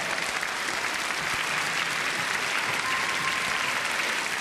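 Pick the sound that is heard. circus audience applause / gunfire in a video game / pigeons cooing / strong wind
circus audience applause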